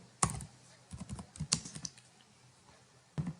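Typing on a computer keyboard, a few sharp close clicks followed by quieter irregular keystrokes in short bursts, with a final clack near the end.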